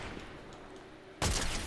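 A sudden loud burst of gunfire from a weapon in the video game Fortnite cuts in after a quiet stretch and holds as a dense, rapid volley through the final half second.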